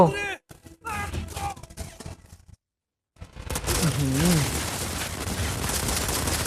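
Gunfire in the mobile shooter Modern Combat 5: Blackout, bursts of rapid shots and a short silent gap, then a sustained roar of fire, loud and close, with someone talking excitedly over the opening part.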